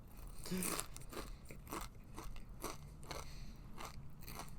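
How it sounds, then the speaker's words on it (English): Chips are crunched close up while someone eats, a run of crisp, crackling bites about every half second with chewing between them, loud and with no voices. "I hope you can hear me crunching."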